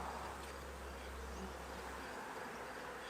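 Honey bees buzz on hive frames in a steady, soft drone that continues without pause, with a low hum underneath that drops away partway through.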